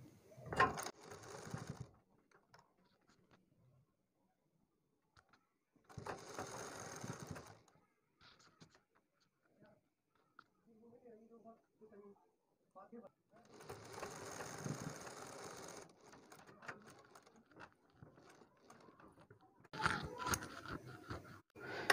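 A sewing machine stitches a garment neck design in several short bursts of close mechanical whirring, separated by quiet gaps, with someone speaking softly in between.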